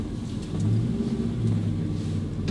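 An American muscle car with an LS V8 engine driving along, its deep, steady engine rumble close and continuous with low harmonic drone throughout, no voices.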